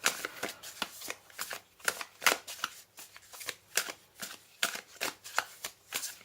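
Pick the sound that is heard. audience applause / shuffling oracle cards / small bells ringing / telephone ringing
shuffling oracle cards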